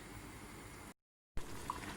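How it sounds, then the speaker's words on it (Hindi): Water splashes into a pot of fried beef for haleem, a steady hissing rush that cuts out briefly and then resumes. "इसको मैंने भून के थोड़ा सा पानी डाल दिया है ताकि गोश्त जले नहीं।"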